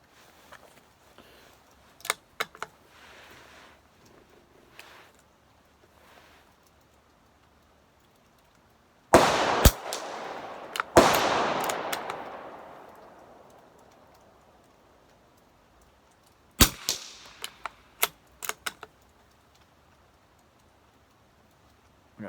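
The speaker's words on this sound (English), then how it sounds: "I'll take a couple shots and I'll show you the action on how it works" Brno Model 3 rifle fired outdoors at steel spinner targets set at 50: a few sharp, loud shots spaced seconds apart, the first two followed by a long ringing decay, plus faint clicks of the bolt action between.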